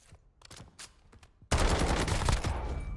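A Warzone loadout weapon fitted with a vertical foregrip and extended magazine fires in the game, starting with a few scattered shots and then breaking into a loud, continuous automatic burst.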